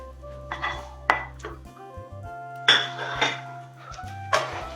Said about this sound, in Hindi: अब हम इसमें तुरई को डाल देंगे